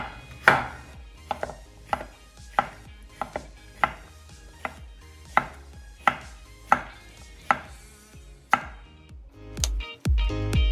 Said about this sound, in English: And then just roughly chop.